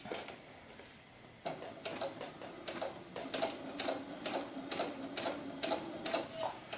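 A sewing machine stitches pleats into a doll-sized ball gown, its needle running in a steady rapid ticking rhythm after a brief quieter start, close and clear with no talking.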